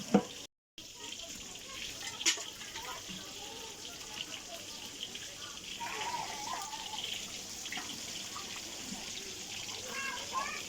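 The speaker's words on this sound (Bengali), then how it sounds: "বারবার পানি দিয়ে আমরা মশলায় কষিয়ে" Spiced masala for a wedding-style chicken roast being fried in a pan with repeated splashes of water, giving a steady soft sizzle and bubbling with occasional clinks, no talk over it.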